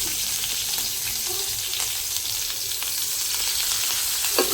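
Oil sizzling in a cooking pan, a constant bright frying hiss with faint scraping, close and steady throughout without speech.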